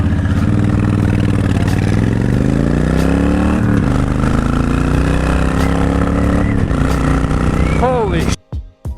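A cruiser motorcycle engine rumbles loudly and close while being ridden, its throbbing pitch rising and falling with throttle changes, before cutting briefly near the end amid wind buffeting.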